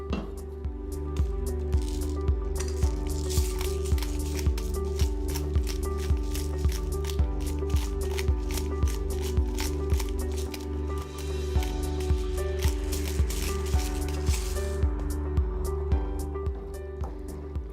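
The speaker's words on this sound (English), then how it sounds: "we're gonna add our guanciale back in, mix that in" Crispy guanciale being tossed into pasta alla gricia in a pan, giving a steady run of wet, squishy, rhythmic stirring pulses over a low background hum, close by with no talk.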